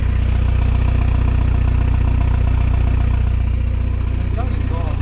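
A diesel car engine idles steadily up close, a deep even throb with a rapid regular pulse, while voices murmur faintly in the background.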